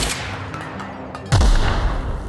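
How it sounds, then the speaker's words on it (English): A heat-seeking rocket launcher fires in the video game The Outer Worlds, a sudden heavy boom with a low rumbling tail that cuts in partway through and stays loud, over a steady background hum. "A freaking heat-seeking rocket launcher."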